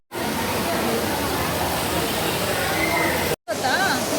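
Water pouring down in a waterfall at a tourist spot near Bengaluru makes a steady, loud broadband roar that runs almost without a break, with a brief cut near the end and faint voices mixed into the spray.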